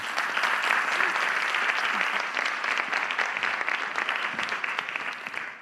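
Steady, sustained applause from a university competition audience, dense clapping throughout with no talking, tapering slightly near the end.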